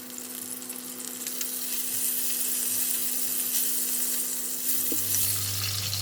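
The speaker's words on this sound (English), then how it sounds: "continue to fry the salted fish and the garlic until it's cooked." Salted fish and garlic fry in a pan for a bean sprout stir-fry, giving a steady, close, unbroken sizzle over a low hum that holds evenly throughout.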